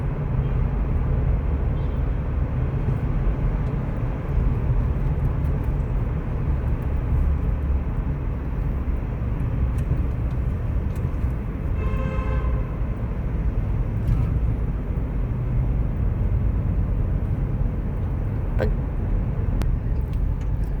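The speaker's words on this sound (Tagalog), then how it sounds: "Kasi nagta-traffic dito." Steady street traffic rumbles in Batha, Riyadh: a continuous dense roar of passing cars and engines, with a brief horn-like tone partway through and faint voices mixed into the busy, close background.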